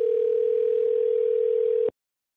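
A telephone line tone sounding on a call-in radio show while the host dials a listener back, one steady loud tone held for about two seconds before cutting off abruptly.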